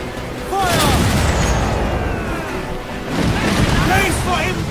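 Naval cannons boom across open water during a ship battle in Assassin's Creed Black Flag, loud sustained blasts with waves and shouting voices layered over the bombardment.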